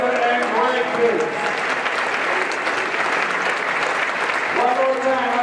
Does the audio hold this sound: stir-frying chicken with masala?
no